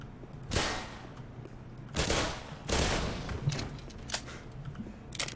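Gunfire in the Black Mesa video game: several loud, sharp bursts of shots at irregular intervals, with smaller reports trailing between them over a steady background.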